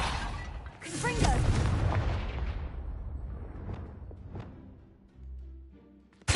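A Confringo fire spell in a Harry Potter video game goes off as a booming blast that rolls and crackles before fading, followed by smaller game effects.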